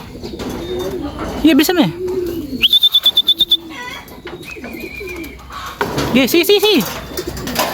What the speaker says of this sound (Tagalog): Kaklak na mga kalapatids, mga ating warrior.